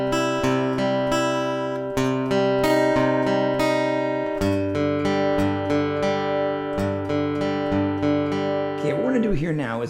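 Guitar playing a phrase from a song, picked notes ringing over each other in a flowing pattern, close and clear, with a bent or sliding note near the end.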